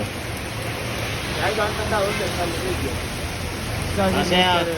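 Steady morning rain hiss in Lonavala fills the background, with a voice talking over it.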